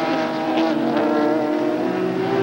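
Speed GT race cars roar around the Road America circuit at Elkhart Lake, a loud, sustained engine drone with shifting pitch as the cars hold speed close by.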